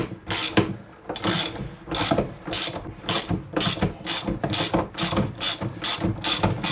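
A hand ratchet clicks in a steady, even rhythm of about fourteen close strokes while winding a 6mm bolt out of the bottom of a Peugeot Django scooter fork damper rod, with no talk.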